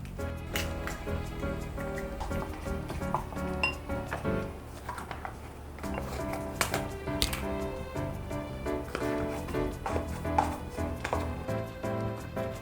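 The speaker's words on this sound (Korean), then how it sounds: "밥에 볶은 김치, 계란 1개, 그리고 라면을 넣고 골고루 섞어주세요" Rice is mixed in a bowl with fried kimchi, an egg and ramen noodles, with repeated nearby clinks, taps and scrapes of a utensil against the dish at an uneven pace.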